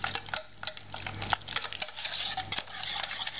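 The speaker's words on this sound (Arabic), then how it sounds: "غادي نخلط هادشي مزيان على هاد الشكل" A spoon stirs cream and yogurt together in a bowl for a chilled dessert, with repeated scraping and clinking strokes against the bowl in an uneven rhythm, close and clear, no talking.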